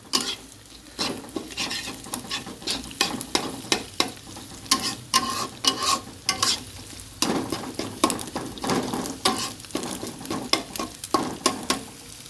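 Noodles frying with three eggs in a pan, a sizzle broken up by busy, irregular scraping and clattering of a utensil stirring and tossing, close and fairly loud, no voices.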